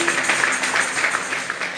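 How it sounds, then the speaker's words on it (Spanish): A church congregation applauds during a worship service, a steady wash of many hands clapping at close range with no clear individual beats and no gaps over the short stretch. "Fuertes esas palmas para nuestro Dios."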